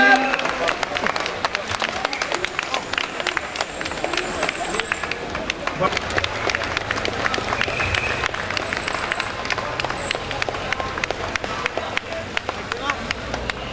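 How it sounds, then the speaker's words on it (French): Crowd applause for finishers of a cycling race in Champagne-Ardenne, steady clapping spread through an outdoor public along with footsteps and crowd babble, while an announcer speaks over a loudspeaker. "vous posez un applaudissement pour tous ceux qui ont terminé"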